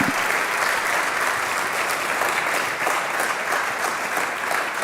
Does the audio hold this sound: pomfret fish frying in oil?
no